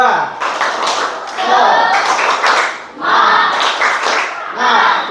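A seated group performs the 'tepuk semangat' ice-breaker clap routine, producing loud patterned bursts of rhythmic clapping in bouts separated by short pauses, with voices chanting along.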